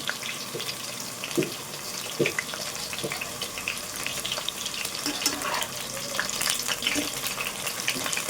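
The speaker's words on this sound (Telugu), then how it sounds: "ఇలానే అన్నీ ఫ్రై చేసుకోవాలండి" Soya chunks (meal maker) frying in oil for manchurian give a steady, bright sizzle with scattered crackles and pops that runs unbroken from start to finish, with no talking.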